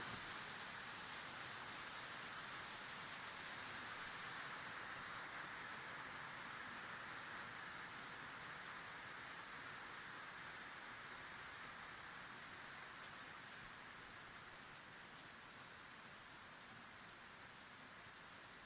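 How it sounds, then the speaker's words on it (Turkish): Heavy rain pours down in Malatya, Turkey, as a dense, steady hiss that stays loud and unbroken throughout, with no voices. "Sanırım fark edebiliyorsunuz yağmurun şiddetini."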